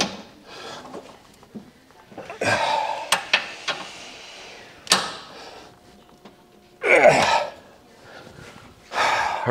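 New grade 8 bolts are tightened on both sides with a tool, heard as a run of close, irregular metallic clanks, knocks and ratcheting bursts separated by quiet gaps.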